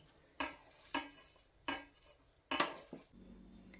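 Rice mixture being stirred in a pot, five distinct scraping strokes of a spoon against the pan at uneven intervals, close and fairly quiet, with a soft low rumble between them.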